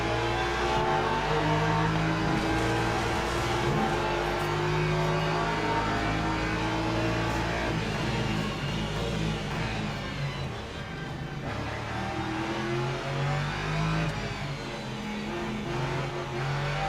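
Race car engines in Le Mans Ultimate, including a BMW, roar steadily and loudly throughout, with sustained revving and shifting engine tones from several cars close together on track.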